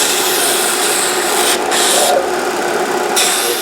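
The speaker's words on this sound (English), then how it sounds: "And then back to the disc sander to round out those ends." A disc sander rounding the ends of a guitar bridge saddle, a loud, steady, close abrasive whir with slight shifts in tone as the piece is pressed against the disc.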